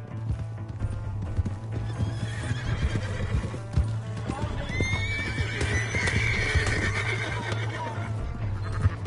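A horse in a video game whinnies clearly while hooves clip-clop steadily underneath, loud and close against a constant low hum and other game noise.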